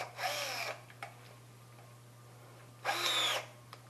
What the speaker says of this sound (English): So I'm gonna drill these ones to 5/16.